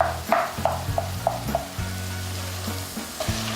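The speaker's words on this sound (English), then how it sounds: "Alright, so now it's time to add my garlic. I'll saute this for about 30 seconds to a minute." Garlic sautéing in a pan, a soft steady sizzle broken by repeated spoon clinks and stirring scrapes up close.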